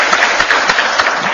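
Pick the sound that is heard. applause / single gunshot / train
applause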